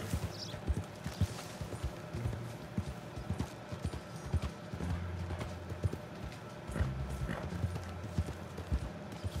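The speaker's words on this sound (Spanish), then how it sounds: "Venga, caballito." Horse hooves clip-clop steadily in the video game Red Dead Redemption 2, a quiet rhythmic trot with occasional louder hoof strikes and faint snorts, heard without talk.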